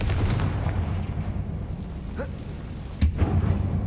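Confringo blasting spell detonating in Hogwarts Legacy: a low rumbling background broken by a sharp, loud blast near the end, with a fainter pop a moment earlier.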